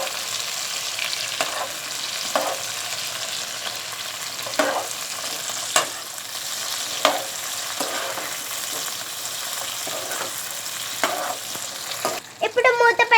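Potatoes stirred in a hot oiled pan for aloo biryani, cashews already added, sizzle steadily and close, with a soft scrape or toss every second or two and a louder clatter of utensils at the end.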